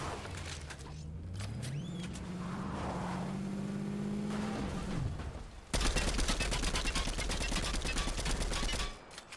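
Car engine revving and driving in the video game Fortnite, a rising motor drone lasting several seconds, then a dense burst of rapid gunfire near the end.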